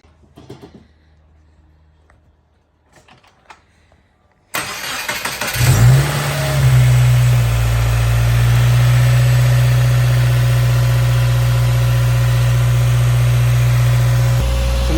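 A car engine fitted with a freshly installed GrimmSpeed intake cranks and catches after a quiet start, then settles into a loud, steady idle that holds without change as it warms up.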